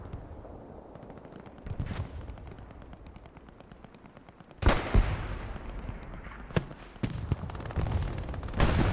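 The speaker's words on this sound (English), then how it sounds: "As we hear that half track exploding in the background" Loud crackling blasts and rattling fire in a war game, with a big explosion from a half-track followed by repeated sharp bangs and continuing battle noise.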